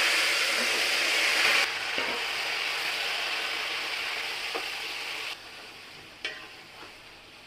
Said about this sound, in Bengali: আমি মাংসটাকে একটু ভেজে নিব